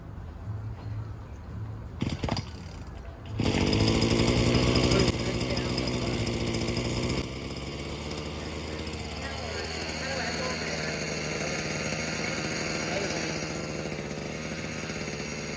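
Someone pull-starts a garden tiller's small engine in a garden. A couple of short tugs are followed by the engine catching with a loud burst, then running steadily and fairly loud, with people talking over it.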